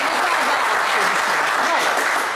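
Studio audience on the French game show Le Coffre Magic breaks into a short, dense burst of loud, close applause, with a voice faintly audible underneath.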